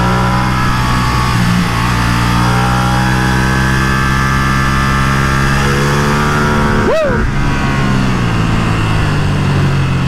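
Ducati Streetfighter V2 motorcycle ridden on the road, a loud, steady engine drone with layered harmonics that dips sharply as the rider shifts gear partway through, then holds again at close range.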